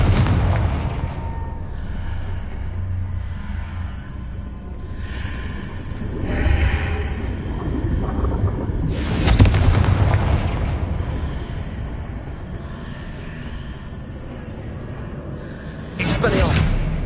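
Confringo spell explosions in Hogwarts Legacy boom out repeatedly, with several heavy blasts amid continuous combat noise while a voice shouts over the action.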